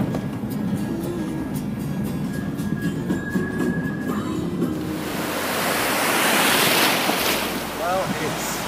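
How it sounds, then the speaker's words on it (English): Surf breaking on a beach in Costa Rica, a steady broadband wash that swells louder in the second half, with wind noise and a faint rumble underneath and no voices. "I wanted to come down here and show you my favourite beach in the world."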